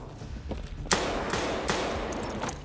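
A grenade blast in Escape from Tarkov, a sharp broadband burst followed by a second loud crack a moment later and a fainter third, over low game ambience.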